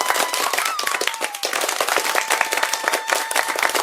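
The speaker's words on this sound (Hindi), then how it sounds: "पूरा गांव तालियां बजाने लगा।" A whole village clapping as a story sound effect, brisk dense claps from many hands, close and fairly loud, with a thin tone running beneath.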